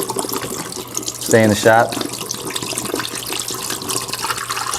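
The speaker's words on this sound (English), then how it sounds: "So I'm going to drain those out right now." Water pours and splashes into a sink as soaked heirloom beans are drained, a continuous running-water wash with a brief spoken remark in the middle.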